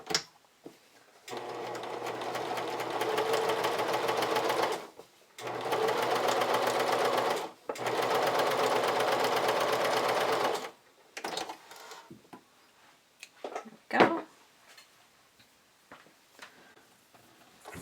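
A domestic sewing machine stitching the neckline of a camisole, running in three steady bursts with brief stops between, then quieter clicks and handling sounds as the fabric is pivoted.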